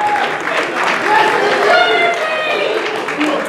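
Crowd applause greets the junior bodybuilders at a pre-judging show, a steady, moderately loud patter of many hands that swells slightly midway and carries on throughout.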